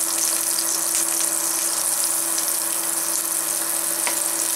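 Butter and a little oil sizzle and crackle steadily in a saucepan, a close, continuous bright frying hiss with no voices.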